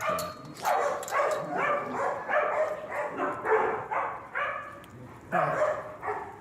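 Dominant dog barking and whimpering in repeated bursts, close and fairly loud, with yips mixed in and some talk underneath.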